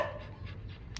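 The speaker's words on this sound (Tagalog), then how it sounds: "Ay, aso lang." A dog pants in quick, steady breaths, close and fairly loud, with a brief sharper puff near the end.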